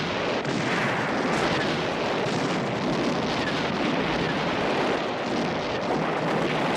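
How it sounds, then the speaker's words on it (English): A scene from the 1985 film Spies Like Us has dense, continuous booming blasts like a barrage of fireworks, a steady rumbling roar with no pauses. "There's fireworks going off constantly."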